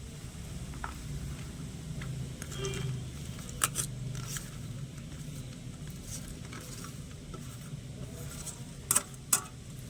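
Chopped vegetables, including tomato, green chili and coriander, go into a pan and are stirred with a soft sizzle, scraping and occasional sharp clinks of the utensil near the end.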